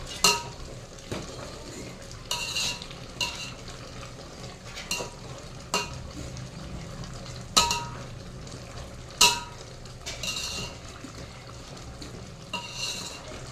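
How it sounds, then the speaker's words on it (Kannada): A long spoon stirs carrot halwa in a pan, scraping and knocking in repeated sharp strokes every second or so over a steady low sizzle of frying, close and clear with no voices. "ಸ್ವಲ್ಪ ಆದಷ್ಟು ಉದ್ದ ಚಮಚ ತೊಗೊಳ್ರಿ ಬೇಡಕ್ಕೆ."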